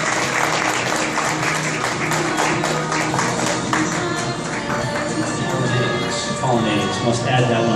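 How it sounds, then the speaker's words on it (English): Audience applause at a steampunk-style fashion show, a steady wash of clapping that runs the whole time with a murmuring crowd and a voice talking over it. "A round of applause for Karen."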